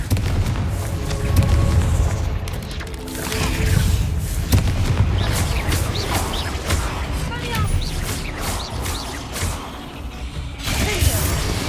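A Confringo fire spell explodes in the video game Hogwarts Legacy, a deep boom set in a dense, continuous wash of game effects and background sound.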